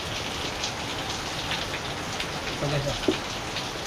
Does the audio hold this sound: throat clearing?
no